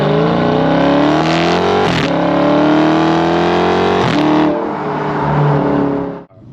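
A 6.4-litre 392 Hemi V8 revs hard, loud and close, its pitch sweeping up and down through several throttle blips before settling and dropping off.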